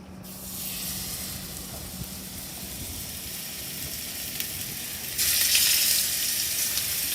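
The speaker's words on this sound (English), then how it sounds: "let's get the fish in the pan" Swordfish frying in extra virgin olive oil in a pan, a steady broadband sizzle that holds throughout and swells louder near the end, with no talking.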